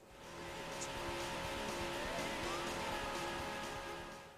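Hornet, the race car from Daytona USA, in the fighting game Fighters Megamix: a steady, sustained engine drone with faint whining tones, moderately quiet and continuous, no voices.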